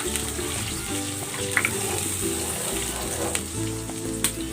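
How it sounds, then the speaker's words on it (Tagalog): Chicken soup stock made from a dissolved chicken cube is poured into a pan of pancit, giving a steady sizzle and watery rush that continues evenly throughout, close and fairly loud. "Ibubuhos ko na dito itong soup stock."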